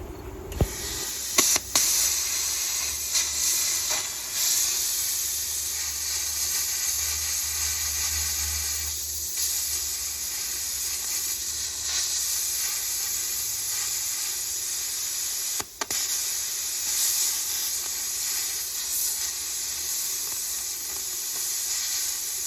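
A Herocut 35i plasma cutter slicing through 1/4 inch flat bar, a long continuous hiss and rushing air roar held steady at close range, with a couple of sharp clicks near the start and one brief dropout midway.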